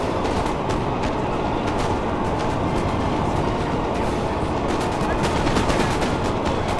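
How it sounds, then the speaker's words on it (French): Musket volleys crackle in the battle game Napoleon Total War, scattered sharp shots popping repeatedly over a thick roar of massed fighting, heard at a moderate distance. "Les mecs, ils me tirent dessus"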